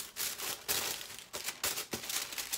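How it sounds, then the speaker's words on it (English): Wrapping paper from a Gucci shoe box being handled, with bursts of crisp crinkling and rustling at close range that start and stop in uneven clusters. "That's paper."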